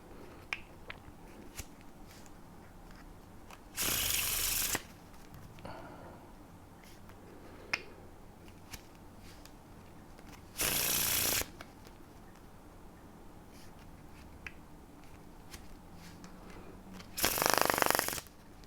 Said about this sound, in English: let's assume I do one Faro Shuffle every 6 seconds